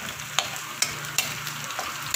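Garlic and onion sautéing in a pan for pork adobo, a soft steady sizzle close by with three or four sharp spatula taps against the pan at roughly even intervals.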